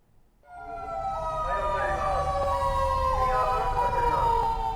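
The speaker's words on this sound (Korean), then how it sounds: "오후 2시를 기해 강남구 일대에 지진 발생 재난경보가 울립니다." An earthquake warning siren in Gangnam-gu, Seoul, sounded during a disaster drill, rises from quiet and holds a loud, steady, wavering wail, droning on continuously as if heard from outdoors.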